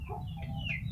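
A chicken with a respiratory illness that makes it snore (ngorok) gives one brief, close, raspy cluck with a rattly low undertone.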